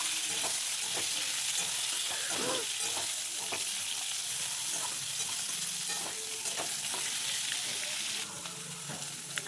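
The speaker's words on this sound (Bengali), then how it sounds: "এই তেলের ওপর দিয়ে দিচ্ছি জিরে ফোড়ন আর দিয়ে দিচ্ছি আলু ফুলকপিটা কেটে রাখা।" Cut potato and cauliflower fry in hot oil with cumin seeds, a steady dense sizzle with occasional stirring scrapes, close and continuous throughout.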